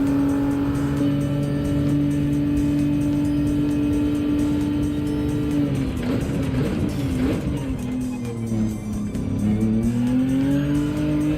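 A Bentley race car on soft tires laps a track in Gran Turismo 7, its engine holding a steady loud drone, then shifting pitch with brief tire squeal and revving as it brakes and accelerates through corners.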